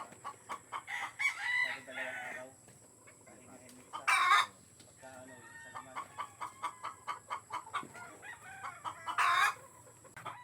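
Brood hens and a rooster confined in a farm hut cluck in quick rhythmic runs. A loud crow breaks through twice, close by, while faint talk sits in the background.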